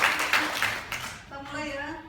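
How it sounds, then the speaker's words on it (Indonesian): Audience applause at a presentation breaks out as a loud burst of clapping for about a second, then fades while a voice begins talking over it. "Kita kasih aplaus dulu ya buat teman-teman yang baru hadir."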